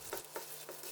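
Seasoned mayonnaise dish being tossed together with soy sauce, vinegar, sugar, pepper and wasabi, giving soft wet mixing swishes in about three strokes, close and quiet with no talk.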